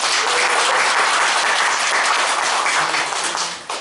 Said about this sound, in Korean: 우리 어린이들 튼튼하게 잘 자라라고 크게 박수 한번 하시겠습니다.